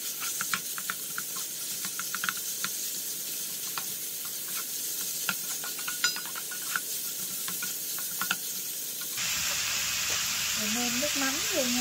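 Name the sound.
stir-frying minced meat with garlic and shallots in a pan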